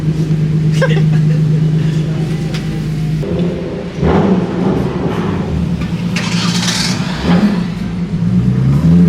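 A car engine idles loudly nearby and revs in short bursts, its pitch rising and dropping, while people talk over it.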